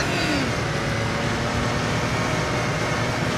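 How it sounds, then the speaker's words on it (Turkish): In the Roblox game Car Crushers 2, a car engine drones and revs loudly and continuously with a steady mechanical hum and no break, close and with no speech. "Ya niye her oyunda araba sesleri çıkıyor arkadaşlar ya?"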